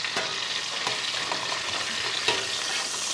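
Bacon fries in a pan and is flipped with a spatula, a continuous bright sizzle close up with a few sharp clicks of the spatula against the pan, no one talking.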